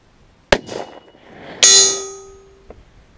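A Desert Tech SRS-A1 rifle firing .260 Rem factory ammo at a steel plate 945 yards away. A sharp report is followed about a second later by a loud metallic clang whose bright ringing tone slowly fades.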